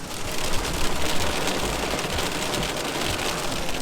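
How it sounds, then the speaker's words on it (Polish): Hail pounding outside a window at Lake Como, Italy, a steady dense drumming clatter with no breaks and low rumbling underneath. "grad napiernicza za oknem"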